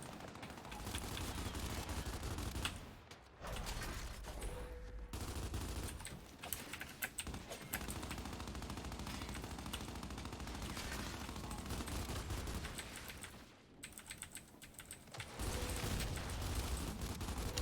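Lancer assault rifle fire in the video game Gears 5, heard as steady bursts and runs of shots in a busy game mix, broken by a few short pauses.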